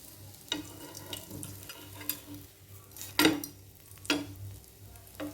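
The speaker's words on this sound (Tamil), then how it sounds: "இதே மாதிரி மீதி உள்ள பிரெட்டெல்லாம் ஃப்ரை பண்ணி எடுத்துக்குவோம்" Masala veg bread toast fries quietly in a pan, a soft continuous sizzle broken by a few sharp clinks and scrapes of a utensil.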